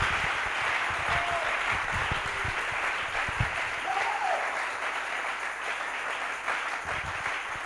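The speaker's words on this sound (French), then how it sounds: "Can we give a hand of clap to the Lord?" A church congregation at an international convention in Yopougon applauds for the Lord. The clapping is sustained and crowd-wide, with a faint voice now and then.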